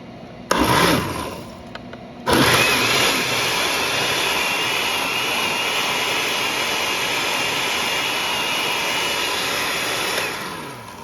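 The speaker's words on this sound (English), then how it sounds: "Now I'm just going to blend it for a few seconds, just to get it broke up." A blender blending juniper berries whirs in a brief burst, stops, then roars loudly and steadily for about eight seconds before cutting off.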